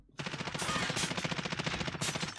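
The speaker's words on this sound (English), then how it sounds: "They shooting at us." Rapid automatic gunfire in Call of Duty: Warzone, with loud, close bursts of shots rattling almost continuously in a steady rhythm.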